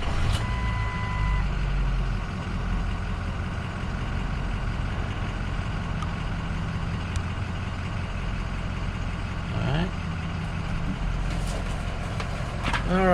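A 2004 Ford F350 Lariat crew cab dually with 178,690 miles idles steadily and nearby after starting, a continuous engine drone with scattered electronic beeps and chimes over it.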